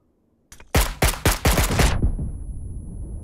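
Rapid gunfire bursts in PUBG, a solo classic match on the Vikendi map: five loud, close shots in quick succession followed by a decaying echo.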